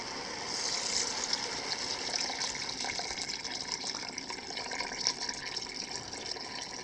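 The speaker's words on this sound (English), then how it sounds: "And then add water" Water is poured into a pot of rice and carrots for plov, a steady close splashing and trickling flow that lasts throughout, with no talk over it.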